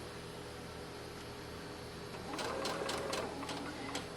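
After a faint, hum-filled pause, a sewing machine starts up and stitches a short straight seam on an 18-inch doll's dress, guided along the presser foot, with quick regular needle pulses at a moderate distance.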